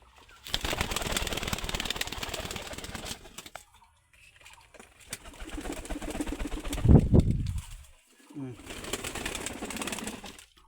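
Pigeons in a pigeon loft coo low and softly while a sudden burst of wing flapping rises near the middle, set among noisy handling sounds and brief pauses.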